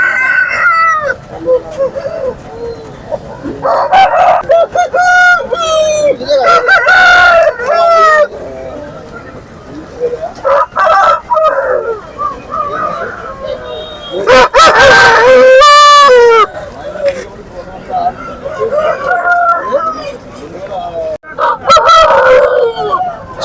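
Roosters crow repeatedly and loudly at Kundarapalli chicken market, long rising calls from several birds overlapping with clucking, a dog now and then and people talking in the busy open-air crowd.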